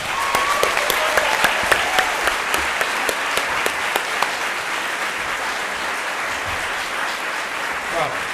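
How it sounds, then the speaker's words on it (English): Steady audience applause for three Democratic candidates at a Pennsylvania U.S. Senate debate, sustained dense clapping throughout at a moderate, even level. "how about another round of applause for all three candidates"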